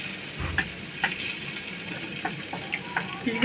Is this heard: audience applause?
no